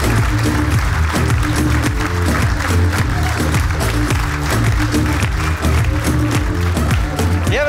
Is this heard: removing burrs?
no